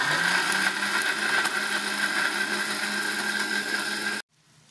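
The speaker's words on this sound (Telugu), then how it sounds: "ఇంకా మసాలా నానబెట్టాం కాబట్టి ఇది రుబ్బేద్దాము" A mixer grinder grinding soaked poppy seeds into a masala paste, a loud steady motor whine that runs alone and then cuts off abruptly near the end.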